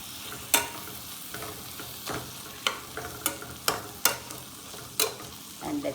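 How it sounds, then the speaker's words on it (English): Chopped tomatoes and green chilies frying in a pan for spicy mince meat, a spatula scraping and knocking in repeated strokes over a soft, continuous sizzle, close and with no voices. "put my tomatoes and green chilies in, and I'm going to stir it about, stir it about, stir it about."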